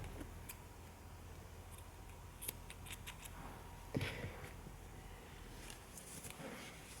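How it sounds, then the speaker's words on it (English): Scissors snip through yarn while fastening off a crocheted pet blanket, quiet, faint cuts over a soft background hiss, with one slightly sharper snip midway. "cut my yarn"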